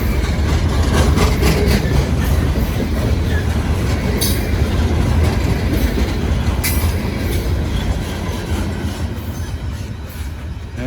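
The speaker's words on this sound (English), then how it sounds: "And there goes your Melvin Stone train" A train rolls past on railroad tracks, loud and close, with a continuous rumble of wheels, faint rhythmic clicks and occasional squeals from the rail cars, fading slightly at the end.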